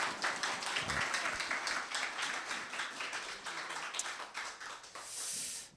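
Audience clapping at a Sunday youth-group worship service in a church, a dense patter of many hands that carries on for several seconds, fairly distant and fading toward the end.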